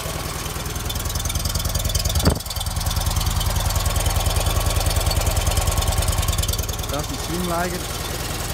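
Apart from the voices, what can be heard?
Fiat 126P engine idling after oil change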